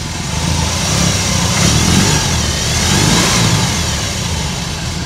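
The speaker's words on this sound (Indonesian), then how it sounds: "dan kita coba hidupin mesinnya. Khas boxer ya. Dia suaranya merdu banget." A 2021 BMW R18 Classic boxer-engine motorcycle running at idle after starting, a loud, steady, deep rumbling throb close by, with no talk over it.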